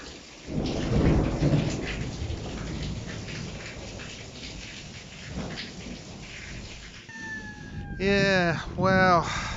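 A heavy thunderstorm rumbles with low thunder over steady pouring rain, and a loud warbling siren-like wail rises near the end.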